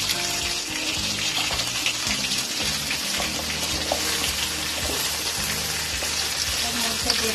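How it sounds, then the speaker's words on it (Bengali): Cut potatoes and pumpkin fry together in a pan, giving a steady, loud wet sizzle with watery hiss throughout, close by and continuous, with faint clatter underneath. "কেটে রাখা আলু, কেটে রাখা কুমড়ো একসঙ্গে ভেজে নেব"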